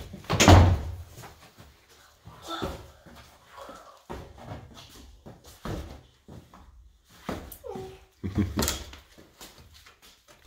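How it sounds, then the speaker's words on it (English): A household door swings shut with one loud, close thump near the start, followed by quieter knocks, rattles and footstep-like handling sounds scattered over the next several seconds. "Close the door behind you so Tiger doesn't come down"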